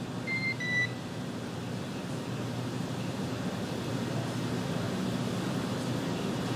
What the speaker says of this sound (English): that little beep that we heard there was it's actually called a quindar